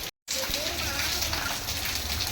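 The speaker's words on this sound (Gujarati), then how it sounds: "પણ હવે વરસાદ એમ આવી ગયો છે ને રેનકોટ પહેરી લીધા ક્રીવુબેને." Steady rain falling outdoors in Jetpur, a continuous broadband hiss throughout with a brief dropout near the start.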